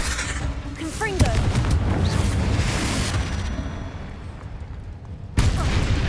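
A Confringo spell goes off in Hogwarts Legacy, a fiery blast with a sharp burst and rumbling boom amid game noise, followed by a second abrupt hit near the end.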